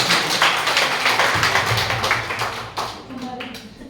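Audience at a real estate group gathering in India clapping for a colleague, a dense, steady patter of many hands over a murmuring room, thinning slightly toward the end.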